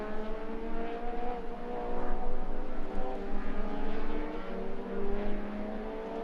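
Race cars roar toward the listener and past on a circuit during a racing round, engines rising and shifting pitch as they approach, swelling louder mid-clip, then fading slightly as they move away.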